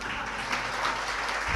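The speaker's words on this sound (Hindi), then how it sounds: "ताली बजाना आता है?" A short burst of audience clapping during a religious discourse gathering: brief, fairly faint scattered applause from a crowd, with no speech over it.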